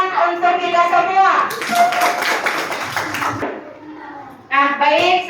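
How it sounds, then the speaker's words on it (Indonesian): A school class applauding, a short burst of many children's hands clapping for a couple of seconds, with a teacher's voice talking before and after it. "Tepuk tangan untuk kita semua."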